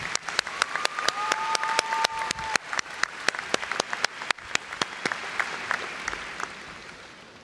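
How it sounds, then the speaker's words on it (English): Graduation ceremony audience applauding a speaker, a dense crowd clapping with sharp individual claps standing out, a brief whistle early on, steady and then slowly tapering. "Nikki, we want to give you a round of applause and thank you so very much"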